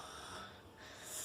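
A voice imitates snoring as part of a children's animal story, with a steady rough breathy rumble that runs for just over a second, close and fairly quiet, with no words spoken.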